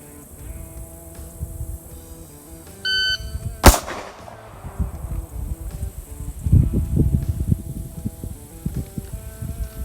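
A Hi-Point Yeet Cannon G1 9mm pistol fires a single loud, sharp shot outdoors at a shooting range, right after a short electronic timer beep, followed by faint rustling and background noise.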